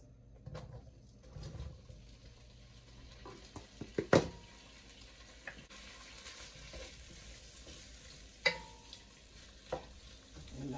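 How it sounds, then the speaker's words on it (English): Sausage for a New Orleans-style chicken and sausage gumbo fries quietly in the gumbo pot as it is moved around, a soft steady sizzle broken by a few close utensil knocks and scrapes. "let them just fry and move them around"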